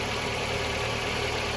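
A 2014 Nissan Versa with a failing alternator idles with a steady, even engine hum and a faint mechanical vibration, close and constant, with no voices.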